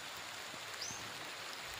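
Rain falling outdoors near a jackfruit tree, a faint steady hiss with scattered soft patter of drops, no talk.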